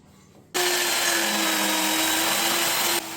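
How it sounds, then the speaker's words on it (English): SKIL SPT77W-01 worm drive circular saw making a compound miter cut across a 2x6 board: a loud, steady whining cut starts abruptly and runs about two and a half seconds before cutting off, up close with no talk. "Let's change it up and do a compound miter cut across the 2x6."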